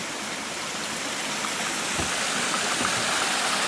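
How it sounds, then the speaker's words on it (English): A waterfall at Rainbow Springs State Park, Florida, gives off a steady, dense rush of falling water. The hiss is close and continuous, swelling slightly toward the end. "are there waterfalls in Florida? I guess there are."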